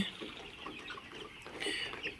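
Poultry farm chickens in a shed give soft, scattered clucks and murmurs, a faint, steady background of fowl with no talking.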